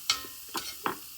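Chopped onion dropped into hot ghee for poha, three brief close scraping stirs over a low sizzle, with no talk.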